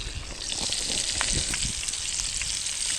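A stuffed chicken parcel sizzles and crackles steadily over campfire coals after being flipped, a close, continuous frying hiss with no talking.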